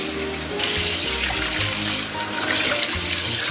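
Pork intestines rinsed in a sink under a steady rush of running water, loud and continuous, with sloshing and splashing throughout and no talk.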